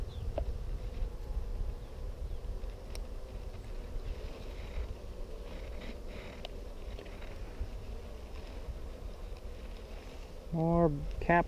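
Honeybees hum steadily at an open hive during a brood inspection, a continuous low drone with faint wind and handling noise, and a brief buzzier burst near the end.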